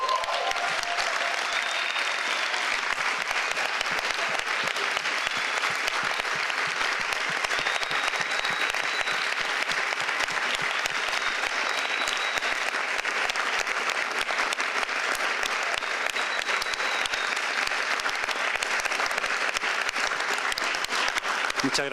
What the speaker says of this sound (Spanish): Y un aplauso también por la sede